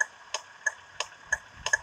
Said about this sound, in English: this is the indicator